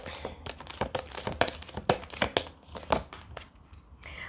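Tarot cards are pulled from a deck, a quick series of crisp crinkling, rustling snaps close by, each draw a short sharp burst, with faint talk in the background.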